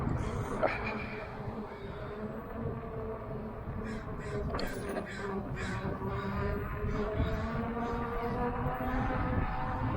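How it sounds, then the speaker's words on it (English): Crows caw repeatedly, several harsh calls scattered over a steady outdoor background along a hiking trail near Deer Lake, moderately distant and fairly faint. "Murder of crows."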